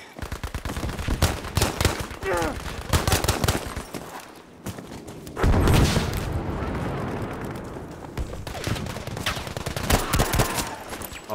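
Dense gunfire from a Battlefield V multiplayer match: rapid automatic bursts and single shots crack continuously over about eleven seconds, with a heavy blast near the middle and faint voices mixed into the combat noise.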